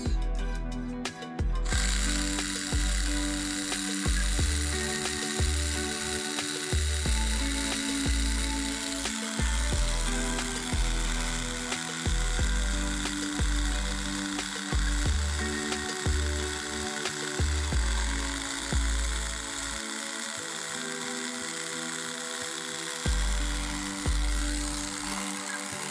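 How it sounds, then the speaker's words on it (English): A Tamiya electric handy drill runs in repeated bursts while boring a hole, its small motor whining with a steady pitch that cuts out and restarts several times, close and alone without talk. "let's try drilling a hole"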